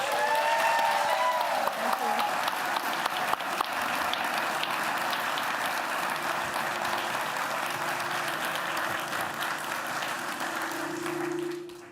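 Steady applause from an audience at a university reunion event welcoming speakers onstage, sustained and even throughout before tapering at the end, with faint voices underneath.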